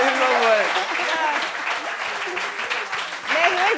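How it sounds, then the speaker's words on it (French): Audience applause at a gathering, a steady crowd of hands clapping throughout while a voice rises and speaks over it, heard near and loud. "Applaudissements pour elle."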